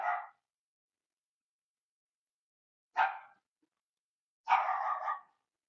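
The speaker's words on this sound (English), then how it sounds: "It's like she sleeps most of the day and then has decided right now is the time she needs to bark." A single dog barks three times, in isolated bursts with long silent gaps between them, fairly close and alone with no other sounds.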